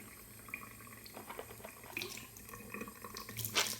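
Tap water runs faintly into a sink or basin, drawn for rinsing laundry, with a soft continuous splash and a few small drips.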